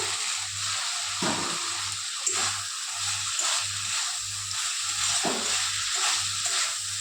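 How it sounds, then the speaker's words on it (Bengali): Fried cauliflower and potato go into spices already frying in a pan. A constant sizzling hiss runs under a regular low pulsing thump and a few stirring scrapes, close and with no talking. "মশলাটা হয়ে গেছে, এবার দিয়ে দেবো ভেজে রাখা ফুলকপি আলু।"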